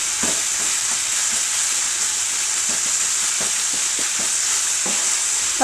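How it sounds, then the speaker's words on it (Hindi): Shredded cabbage and mixed vegetables frying over a high gas flame, a steady bright sizzle with repeated soft stirring scrapes and clinks of the spoon, close and alone. "पत्ता गोभी डालने के बाद मैं इसे गैस की फ्लेम पर, मतलब हाई फ्लेम पर 1 मिनट तक पका रही हूँ।"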